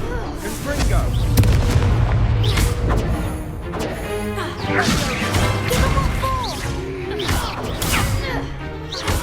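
Fire spells blast in a Hogwarts Legacy duel, a dense run of booming explosions, crashes and impact thuds layered with whooshing magical effects, loud and near, with voices shouting over the action.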